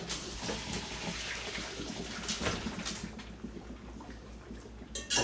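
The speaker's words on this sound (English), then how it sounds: "So now I'm going to pour this down into this strainer bowl." Blanched vegetables and their cooking water are poured from a pot into a strainer bowl in a kitchen, a rushing splash of water lasting several seconds before tapering off.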